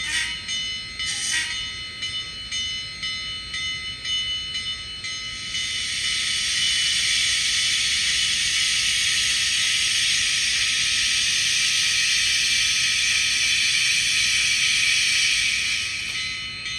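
An HO scale Allegheny model locomotive runs with a steady, bright mechanical whir and hiss that swells after a few seconds and holds even, near and fairly loud, with no talking.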